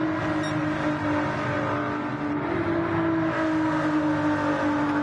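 Race cars speeding down a straight, a sustained high engine drone with a steady pitch holding loud and close, with a slight dip midway and no voices.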